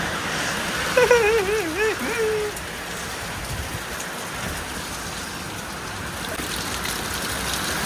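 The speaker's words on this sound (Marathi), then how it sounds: "बघा एवढा भयंकर पाऊस आलाय ना पहिलाच, तेच चालू आहे." Heavy first rain of the season pours down with a steady, dense hiss onto a terrace where water is pooling. Someone talks briefly near the start.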